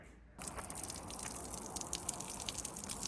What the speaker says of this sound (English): basically what that means is the water doesn't sit in the foam, so it goes straight through